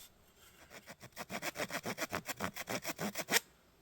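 A hand saw cuts a kerf groove into wood while making a pump drill, about twenty quick rhythmic back-and-forth strokes, close and fairly quiet, speeding slightly and ending with a sharper final stroke.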